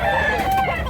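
A rooster crows once, close and loud, in a brief burst at a Cebu market, with faint background chatter beneath.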